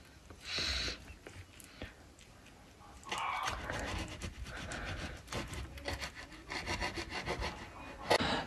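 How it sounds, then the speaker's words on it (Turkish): A knife slicing through a homemade sushi roll with light pressure, giving soft, close sawing and rubbing strokes in several short bursts separated by quiet pauses. "Şöyle fazla bastırmadan sadece böyle dokundurarak kesiyorum"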